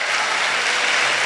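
A worshipping church congregation breaks into a short, loud, dense wash of applause, the crowd's clapping blending into a continuous roar with no voices over it.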